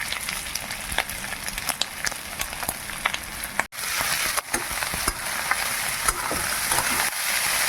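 Potatoes fry with fish roe in hot oil, a steady close crackling sizzle with scattered sharp pops and occasional stirring scrapes, continuous and fairly quiet throughout.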